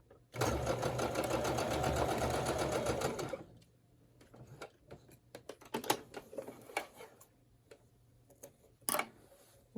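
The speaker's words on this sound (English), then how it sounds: "So I'm going to start there, sew across this seam." A sewing machine sews straight across a fabric seam in one steady, close run of about three seconds, then stops, leaving scattered light clicks and fabric handling.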